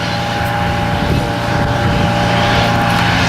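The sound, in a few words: Boeing 787 ANA jet aircraft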